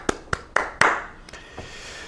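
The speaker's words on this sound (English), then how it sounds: "Give myself a round of applause." Four sharp hand claps in quick succession, each a bit louder than the last, followed by a couple of softer taps, close and clear.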